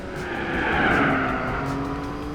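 A race car engine drones at high revs with a faint squeal of tires during a GTR race in Gran Turismo 4, holding a steady, loud tone that swells slightly in the middle.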